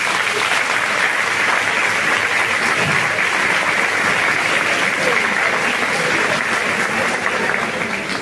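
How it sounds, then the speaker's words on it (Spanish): Audience at a women's tea gathering breaking into sustained applause, dense steady clapping from a sizeable crowd filling the room at even loudness throughout, without a break. "merecemos darle un aplauso a ellos"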